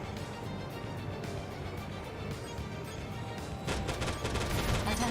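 Mech weapons open fire on a facility in the video game Daemon X Machina, a dense continuous barrage of gunfire and impacts that swells louder near the end.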